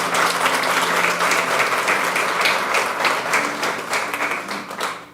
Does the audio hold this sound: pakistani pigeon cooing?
no